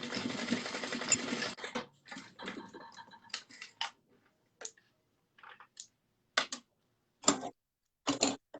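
Sewing machine basting a D-ring onto a small moto bag: a longer run of fast whirring stitches at the start, then a series of short clicking bursts and single stitches with silent gaps, heard up close.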